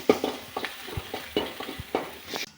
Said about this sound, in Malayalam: നമ്മളെണ്ണ ഒഴിച്ചു, ആവശ്യത്തിന് കടുകിട്ടു, വെളുത്തുള്ളിയും ചെറിയ ഉള്ളിയും കൂടി ചതച്ചിട്ട് ഇട്ട് കടുക് വറുത്ത താളിച്ച